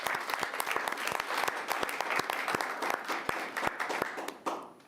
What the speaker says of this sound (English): How about a little round of applause for them?